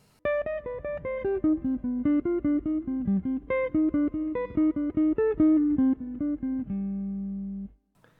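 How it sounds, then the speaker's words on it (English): A jazz guitar plays a Bach-inspired melodic minor line of steady, evenly picked single notes, clear and close, ending on a held low note with no talking. "have a listen to the first example"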